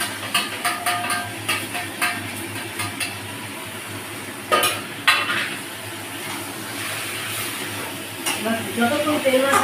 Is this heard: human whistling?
no